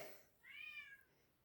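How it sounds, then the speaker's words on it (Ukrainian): A domestic cat gives a single faint, drawn-out meow that rises and falls, heard alone in a quiet room. "Це мій кіт, перепрошую, щось він хоче"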